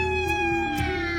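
A cat gives a loud, drawn-out tonal meow, close and clear, with a slight waver in pitch across its length.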